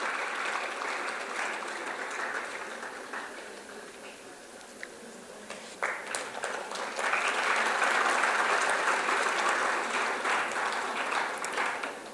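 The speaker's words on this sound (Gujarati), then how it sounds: "તાળીઓના ગડગડાટથી આ ક્ષણને વધાવી લઈશું." Audience applause at a lecture-series event in a hall, a steady wash of many hands clapping that swells louder after a brief dip, with no speech over it.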